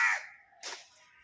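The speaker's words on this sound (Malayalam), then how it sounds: "കാക്ക വെള്ളത്തിന് നിൽക്കുന്നുണ്ട്" A crow gives two harsh caws, the first long and loud, the second shorter after a brief pause, standing alone with nothing else around them.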